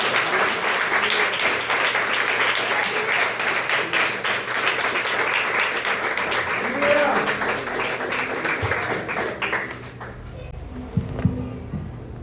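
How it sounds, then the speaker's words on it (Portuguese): Crowd applause at an evening church worship service, a dense steady clapping that runs for about ten seconds before thinning out, with a few voices mixed in beneath it. "Aplauda o nome dele nessa noite"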